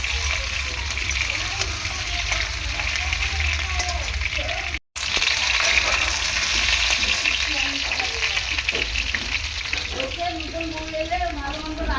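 Potatoes fry in a pan with a loud, continuous sizzle and crackle, broken by one brief silent gap midway; faint bubbling and a bit of background noise run beneath it.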